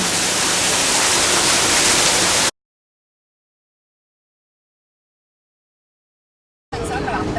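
A waterfall in a park greenhouse pours out a steady, broad rushing hiss, cut off by several seconds of total silence before the same wash of water noise returns.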